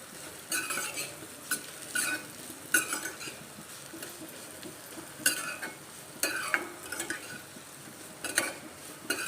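Wheat vermicelli roasts in hot ghee, stirred with irregular scraping strokes of a utensil against the pan over a low continuous sizzle; no one speaks.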